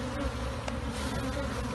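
Dense, continuous buzzing of many honey bees close by as they are handled by the handful during a hive removal, with no other sounds.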